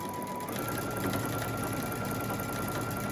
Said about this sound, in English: Now you need to sew down both of these curved edges with a 1/4 inch seam